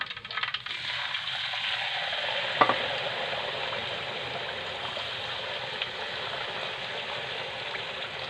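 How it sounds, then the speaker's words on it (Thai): Stuffed eggs fry in hot oil scented with pandan leaves, giving a steady, even bubbling sizzle that runs throughout, with one sharp clink early on, close and moderately quiet, without speech. "ใส่ไข่ลงไปทอดเลยนะ"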